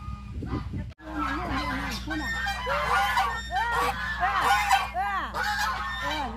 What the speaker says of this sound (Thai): เราจะพาไปดู สวนไปสวนไปดูห่านกันมาดู